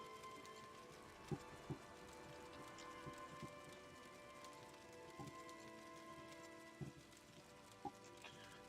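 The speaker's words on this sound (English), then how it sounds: "no, it is raining" Rain falls outside an open patio door, a faint steady patter with occasional sharper drips and knocks scattered throughout, heard from indoors at a distance.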